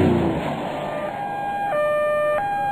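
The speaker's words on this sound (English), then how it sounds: "I'm an ambulance." An ambulance siren with a two-tone wail alternating between high and low pitches, following a passing vehicle rumble at the start and heard clearly without talk.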